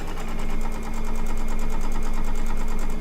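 An embroidery sewing machine stitching an in-the-hoop quilt block, giving a steady, close mechanical whir with a fast repetitive needle rhythm that runs unbroken throughout.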